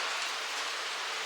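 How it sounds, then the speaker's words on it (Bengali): Steady, dense rain hisses evenly throughout, a continuous wash of falling drops with no pauses or other sounds. "বৃষ্টিটা তো ভালো লাগছে,"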